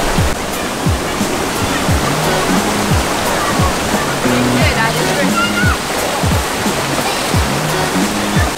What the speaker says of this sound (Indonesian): dekat bawah air terjun ni best juga